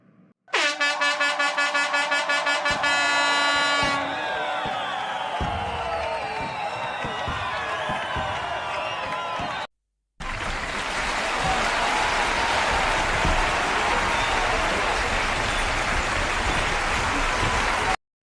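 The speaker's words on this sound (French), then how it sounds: "sous vos applaudissements chaleureux" A comedy-show audience welcomes a performer with loud blaring horn blasts at first, then sustained applause and crowd noise that cuts out briefly before resuming just as strongly.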